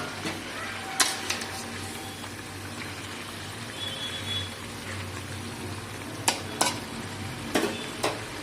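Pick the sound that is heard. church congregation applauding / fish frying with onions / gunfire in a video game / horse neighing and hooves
fish frying with onions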